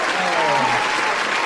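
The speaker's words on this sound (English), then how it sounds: "Hit the round of applause for yourself." A round of applause, a brief, loud and dense wash of clapping from a group, with voices faintly mixed beneath it.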